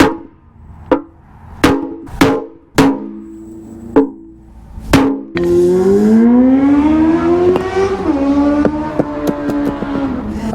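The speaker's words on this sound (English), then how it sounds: "I don't know if you heard that, but that was a motorcycle." A motorcycle passes by outside a workshop, its engine note rising and sustained loud for several seconds after a series of sharp knocks.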